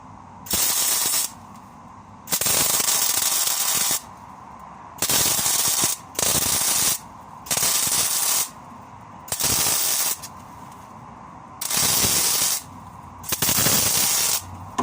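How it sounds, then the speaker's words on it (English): Welding on a corroded trailer spring hanger: about eight close, loud bursts of crackling hiss, each lasting one to two seconds, separated by short pauses. "so I'm just going to start welding her up now."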